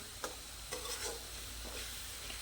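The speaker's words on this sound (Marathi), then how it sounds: "आपण मसाला सगळा सारखं हलवून घ्यायचंय बघा, म्हणजे याची सगळं व्यवस्थित परतलं जाईल" Masala for a drumstick vegetable curry is stirred in a hot pan. A continuous sizzle sounds close, with a few soft spoon scrapes breaking through.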